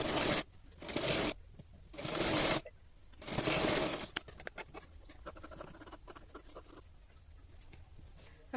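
A sewing machine stitches the back part of a blouse in several loud bursts of about a second each, separated by short pauses, then gives way to quieter scattered clicks and handling of the fabric.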